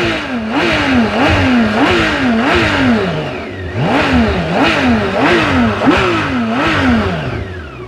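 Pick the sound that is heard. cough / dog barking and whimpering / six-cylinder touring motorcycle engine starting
six-cylinder touring motorcycle engine starting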